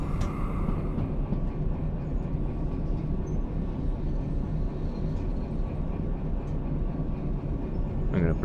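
A DE6 diesel locomotive in the railway game Derail Valley, with a steady low rumbling drone and faint rail clatter throughout and a brief higher whine near the end.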